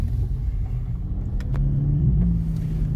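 A four-cylinder van engine rumbles steadily at low revs during a slow U-turn, heard from inside the cabin, swelling slightly near the end.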